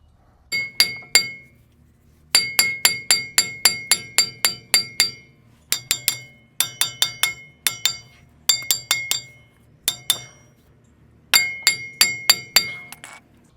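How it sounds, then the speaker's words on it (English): Hammer strikes on a rusted brake part of a 5th-gen Ram 2500 Cummins, ringing sharp metallic clinks in rapid bursts of four to eight blows separated by short pauses, loud and close, with no talking. "that's a lot of hammering"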